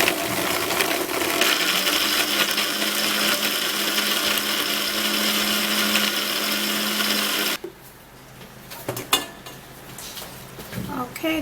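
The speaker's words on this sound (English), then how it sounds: "I'm gonna be blending it so I could get the juice out of this coconut" A blender whirs loudly and steadily for several seconds while blending coconut pieces to extract juice, then cuts off abruptly, leaving quiet clinks and handling noises.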